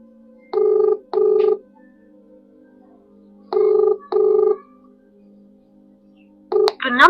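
A phone line's calling tone pulses in paired beeps, two pairs separated by a pause, then a recorded voice begins at the very end saying the dialed number is busy.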